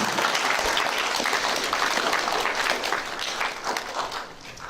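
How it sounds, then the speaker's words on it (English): Applause at a school assembly for a student, a roomful of clapping that starts strong and gradually thins and softens toward the end. "Round of applause for Wanika."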